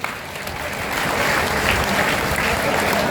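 A crowd of protesting guest teachers in Karnal breaks into sustained applause, loud and close, swelling after the first second and holding steady throughout.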